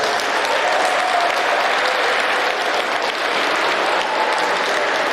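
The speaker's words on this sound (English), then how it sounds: "You can have a little applause for these children on Saturday." A roomful of people applauds children at an inter-house trivia competition, producing a loud, even, sustained wash of clapping that holds steady throughout with no talk over it.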